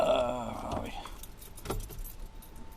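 Keys jangle and turn in the ignition of a camper van, a close metallic rattle that fades within a second, followed by faint clicks while a voice speaks briefly.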